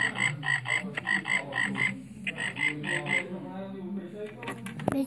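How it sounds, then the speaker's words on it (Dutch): A toy frog croaks as a sound effect from the Operation (Dokter Bibber) game, a rapid run of rhythmic electronic croaks that pauses briefly and resumes, ending with a click and a voice. "Dat is een kikker."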